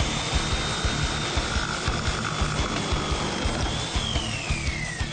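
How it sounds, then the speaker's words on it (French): A jigsaw cuts through wood with a fast, steady buzzing rattle of the reciprocating blade, loud and close, running continuously with a high whine that drops in pitch near the end. "Mais une scie sauteuse fera l'affaire."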